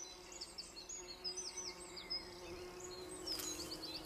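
A bumblebee sonicates a flower with long yellow anthers, producing a faint, steady buzz beneath scattered outdoor bird chirps and quiet background ambience.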